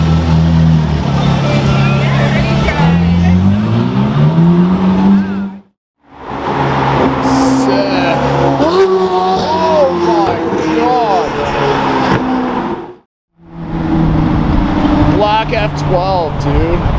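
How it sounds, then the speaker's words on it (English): A Ferrari 458 and a Nissan 370Z with straight pipes roar loudly nearby in sustained, rising revving passes broken by two brief gaps, with people talking and cheering over the engines. "I love the sound of a 458 and a 370Z"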